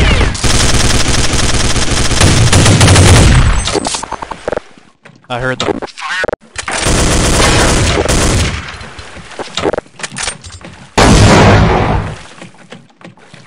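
Counter-Strike 1.6 gunfire on the Chateau map, with loud close bursts of automatic fire and shots that stop and start over several seconds, mixed with breaking and shattering sounds, while a player talks.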